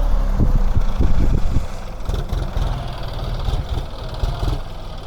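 A loud John Deere 5045D tractor engine idles close by with a low, uneven chugging throb that settles into a steady rumble.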